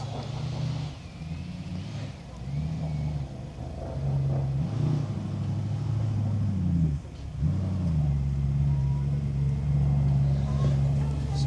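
Rally cars on a gravel forest stage close in with steady engine drone and revving that swells louder over the stretch, a commentator talking over the approaching motors.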